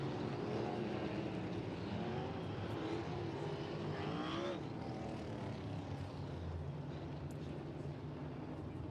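Sprint cars race around the Off Road Speedway dirt track, a steady engine roar that swells and fades as they pass, with an announcer talking over the noise.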